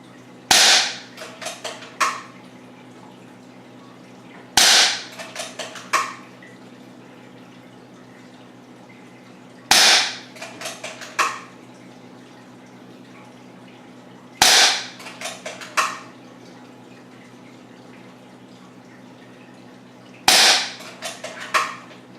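ATI Nova Liberty .22 air gun fired freehand, five sharp evenly spaced shots each followed by quick metallic clicks of cycling, crisp and close against a quiet background hum.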